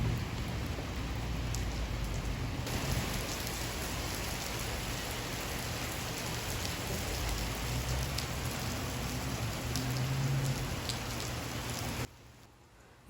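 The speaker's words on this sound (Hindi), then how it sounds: "सुना आप लोगों ने बारिश का साउंड" Heavy rain pours in a steady, dense hiss of drops striking surfaces, loud and continuous for most of the stretch before dropping away sharply near the end, with no voices.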